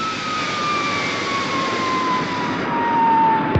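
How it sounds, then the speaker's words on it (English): Supercar, the aircraft from the puppet TV series, drones overhead with a steady, loud whine that slowly falls in pitch, ending in a brief sharp transient. "I can hear Supercar's engines."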